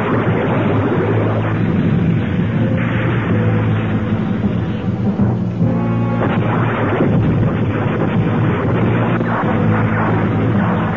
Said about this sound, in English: Main guns, fire!